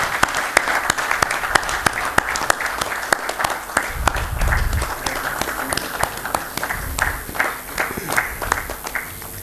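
Conference audience at a textile event's closing session applauds steadily, with crisp individual claps standing out over a sustained crowd wash for the whole stretch, a low rumble of movement briefly underneath.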